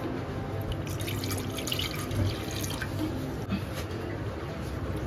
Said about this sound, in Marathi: तर आता आपण इथे कुकर घेतलेला आहे, त्याच्यामध्ये आता आपल्याला थोडंसं पाणी ऍड करायचं आहे।